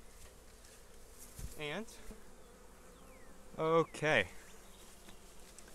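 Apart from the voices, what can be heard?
honeybees buzzing while installing a bee package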